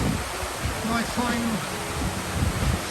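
A waterfall in the Brecon Beacons hisses as a broad, steady rush of falling water close by, with a few faint tonal sounds briefly over the wash.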